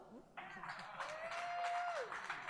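An audience at the Road to Nashville 2022 launch breaks into faint, steady applause for Ian Ayre, with a sustained tone and voices in the background.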